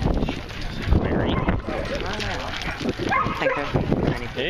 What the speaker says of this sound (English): Look at all these other doggies.